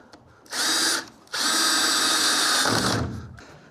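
A power drill drives screws into a knotty pine wall in two close, loud bursts, a short whir followed by a longer sustained run as the screw goes in.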